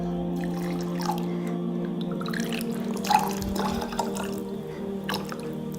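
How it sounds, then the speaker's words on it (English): A cup of warm water poured into a mixing bowl for koeksister dough, a soft wet trickle and drips over a steady kitchen hum, with no talking. "And then I've got a cup of warm water."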